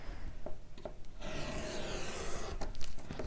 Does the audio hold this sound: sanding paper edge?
yes